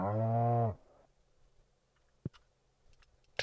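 A cow lets out one long, loud, tonal moo in Stardew Valley, followed by near-quiet with a couple of sharp clicks.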